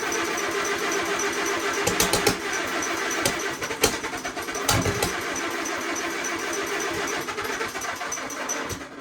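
Allis Chalmers WC tractor engine cranking and trying to start, a steady mechanical churning with irregular sharp knocks and pops scattered across it, close by and fairly loud.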